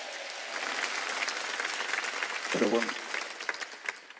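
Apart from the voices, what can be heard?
congregation applause at a church service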